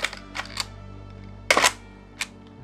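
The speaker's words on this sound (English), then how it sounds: "Mirror going up and the shutter in the lens opening and then closing again." Mamiya RB67 medium-format camera firing: a sharp mechanical clack of the large mirror flipping up, then the lens leaf shutter opening and closing in a couple of quick clicks, close and distinct over faint background hum.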